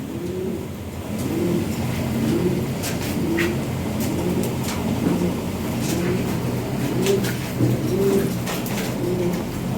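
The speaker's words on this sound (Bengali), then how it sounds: "কঠিন কবুতর দেখেন কত সুন্দর কবুতর দেখছেন" Imported Lahori Sirazi pigeons coo in repeated soft, throaty rolls, fairly close and steady throughout, with a faint engine rumble and occasional light clicks in the background.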